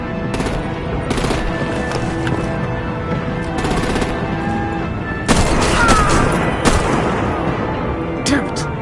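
Video game gunfire and artillery in the Batman Telltale Series: rapid machine-gun bursts and heavy booming shots overlapping in loud, dense volleys, with short gaps between bursts.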